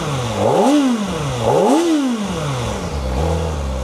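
A Kawasaki ZX4-RR motorcycle engine revs hard twice, each rev climbing high then falling back, followed by a steadier idle and a smaller blip, loud and close.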